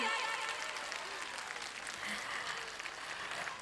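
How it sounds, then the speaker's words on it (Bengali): Audience applause at a Shantiniketan Academy annual function after a Mirabai stage performance, a steady wash of clapping from a crowd that holds at an even level throughout. "সবাই একটু কি আরো জোরে করতালি করে জানাতে পারেন?"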